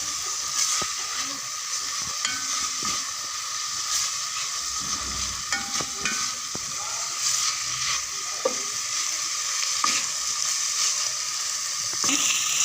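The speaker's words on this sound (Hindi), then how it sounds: "बस ऐसे हल्का सा फ्राई करूँगी" Chopped vegetables frying lightly in a little oil in a pan for chicken cheese bread rolls, a steady close sizzle and hiss with occasional scrapes and stirring clinks throughout.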